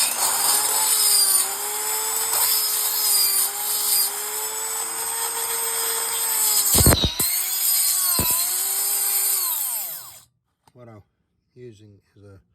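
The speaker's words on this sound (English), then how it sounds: "using is a Dremel Carbide carving bit, and it is strong enough to cut the metal." A Dremel carbide carving bit grinds into a metal e-trike bearing with a high, whining rotary scream that wavers in pitch as it bites, is briefly interrupted twice, then stops. Speech follows in the quiet after.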